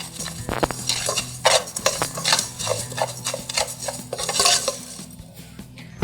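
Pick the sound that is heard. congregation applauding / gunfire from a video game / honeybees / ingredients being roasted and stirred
ingredients being roasted and stirred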